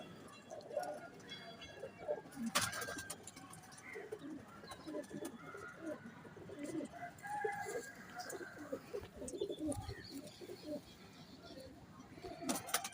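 Pigeons coo softly in the background, low and murmuring, with faint clucking and distant voices in a quiet setting.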